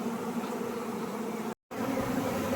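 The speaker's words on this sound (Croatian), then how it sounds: "Evo, ima jako puno pčela, kao što se može vidjeti." Dense swarm of honey bees in an open beehive gives a loud, continuous close-up buzzing drone, briefly cut by a short gap before resuming.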